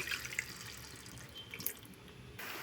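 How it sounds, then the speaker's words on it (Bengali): Water poured into a simmering Bengali gravy of potato and egg as it cooks, a steady close splashing trickle that runs for a couple of seconds and then cuts off abruptly. "এখন দেব জল"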